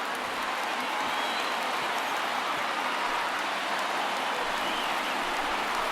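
A baseball crowd of over 31,000 rises and cheers in the stadium, a dense, steady roar of many voices and clapping that fills the whole stretch without letup.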